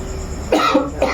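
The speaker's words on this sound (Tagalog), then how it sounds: "Ubo na ako." A single cough bursts out over a steady background hum, followed by a shorter second cough a moment later.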